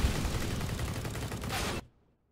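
Dense, continuous gunfire from CS:GO on the Inferno map, a loud sustained burst of rapid shots that cuts off abruptly near the end.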